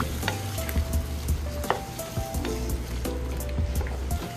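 Chicken afritada with potatoes, carrots and water being stirred in a pan, with steady sizzling and scraping clinks of the spoon, close and continuous.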